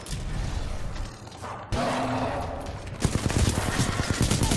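Gunfire in a Titanfall 2 campaign mission comes as a sudden burst midway, then a rapid string of close shots cracking toward the end, with softer ambient action before.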